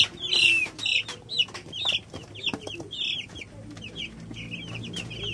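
Cobb 500 broiler chicks at about eight days old, a cluster of high cheeping peeps in quick irregular bursts, fairly close, with light shuffling and rustling beneath.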